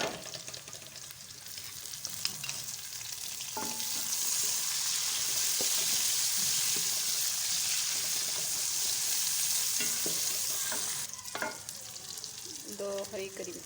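Chopped tomatoes hit a hot pan with ginger garlic paste for aloo gobi, setting off a loud, steady sizzle that swells, holds, then eases, with faint stirring and utensil taps close by.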